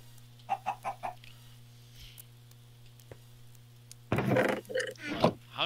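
Chickens cluck in a farming-style multiplayer video game: a quick series of short clucks with a steady low electronic hum underneath, then a louder burst of overlapping squawks near the end.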